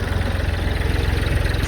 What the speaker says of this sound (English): we busted out the big green tractor. First time ever driving this thing